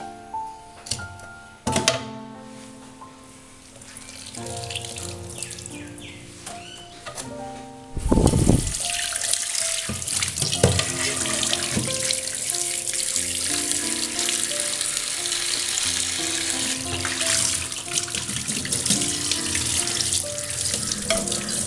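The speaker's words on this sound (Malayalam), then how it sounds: "നമുക്കിതൊന്ന് കഴുകി നോക്കാം." Tap water gushes steadily and loudly over a freshly scrubbed cookware pan being rinsed in a sink, the splashing beginning abruptly and continuing without pause.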